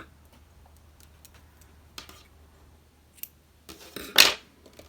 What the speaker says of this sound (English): what you're going to do next is cut your tail.